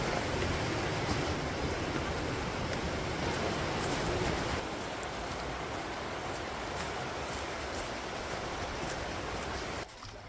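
Water flows along a stream in a broad mountain valley lined with maple trees, a steady, soft rushing wash that carries on alone throughout.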